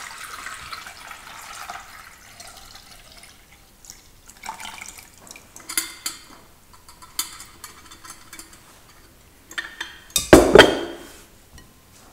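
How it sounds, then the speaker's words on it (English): Kefir grains being strained through a plastic strainer in a kitchen, with soft drips, light plastic knocks and clinks scattered throughout, ending in a louder clattering scrape near the end, no talking. "I'm just going to use a plastic strainer."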